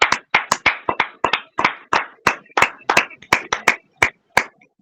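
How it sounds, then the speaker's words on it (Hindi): Hands clap sharply and rhythmically in a church after a testimony, about fourteen crisp, evenly paced claps from a small group, close and loud with no other sound between beats. "हम इस सुंदर सी गवाही के लिए जोरदार तालियां बजाते हैं"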